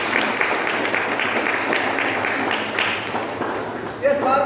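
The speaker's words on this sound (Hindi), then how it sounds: "उनके लिए एक तो ताली होना चाहिए।" An indoor audience applauds an arriving guest at a gathering, with steady, sustained clapping from many hands throughout and a brief louder swell near the end.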